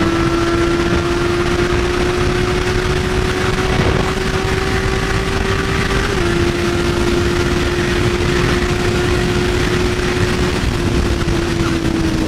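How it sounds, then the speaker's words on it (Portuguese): Engines of a Chevrolet Camaro and another car droning at a steady pitch on a highway, loud and close, the tone holding and shifting slightly, with no voices. "Um Camaro e um DS acelerando."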